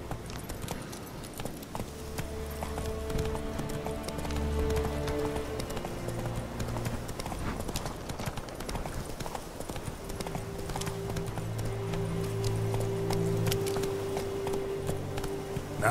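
A horse gallops in The Witcher 3 video game, its hooves pounding in a rapid steady rhythm throughout over a low ambient game soundscape, close and continuous.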